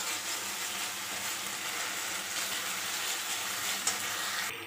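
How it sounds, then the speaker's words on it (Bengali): Spice paste with salt, turmeric and a little sugar fries in a pan with a steady moderate sizzle, a continuous even hiss with a small clink near the end. "মশলাটা কষাচ্ছি আমি।"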